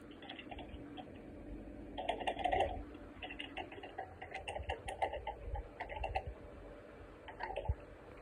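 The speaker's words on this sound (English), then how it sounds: "And I know y'all heard that typing." Typing on a computer keyboard, rapid irregular clicks in quick bursts with short pauses, close and fairly quiet, with no talk.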